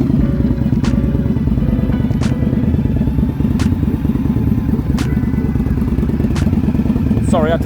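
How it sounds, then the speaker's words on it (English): An Indian Scout Bobber motorcycle fitted with Maverick Crusher exhausts idles loudly and close by, a deep steady rumbling throb with clattering mechanical pulses throughout. "I'll just start the bike up for you quickly so you can hear it."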